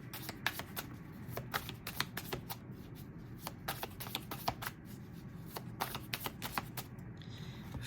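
Tarot cards are shuffled and handled close by, soft riffling and a steady patter of small sharp card snaps over a low background hum, quiet and continuous.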